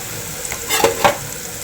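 Fenugreek leaves dropped into hot oil tempered with garlic, green chili and crushed peanuts, giving a brief close burst of sizzling and two quick clattering stirs over a steady background hiss.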